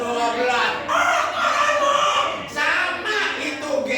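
A rooster crows with long drawn-out calls over a busy background of other fowl and voices, loud and fairly close.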